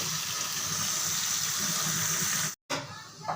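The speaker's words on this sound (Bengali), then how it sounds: "আলুটা হচ্ছে একদম বেসিংয়ের ভিতরে আমি নিয়ে নিয়েছি নিয়ে একদম ভালো করে একদম ধুয়ে নিচ্ছি" Tap water runs steadily into a basin as potatoes are washed, a continuous close splashing rush that cuts out briefly near the end, then resumes with lighter splashes.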